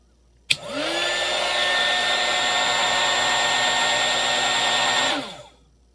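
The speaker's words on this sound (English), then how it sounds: "Let's hit the heat gun again." A heat gun powered through a 200W portable power inverter running on a Dewalt/Milwaukee 18V battery switches on with a sharp click, blows a steady loud whirring roar with a motor whine for about five seconds, then winds down.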